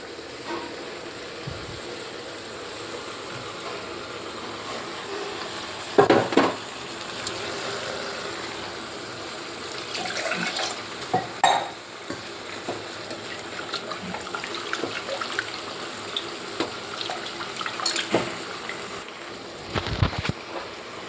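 Water splashes and pours into a cooking pot of sambar with boiled lentils, a running, gurgling stream with louder splashes and clinks scattered through it.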